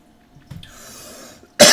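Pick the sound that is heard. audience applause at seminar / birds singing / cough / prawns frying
cough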